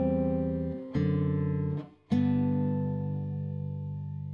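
A guitar plays chords from measure 11 of Bach's "Jesu, Joy of Man's Desiring": three sustained strummed chords, each ringing and fading into the next, heard up close with no talking.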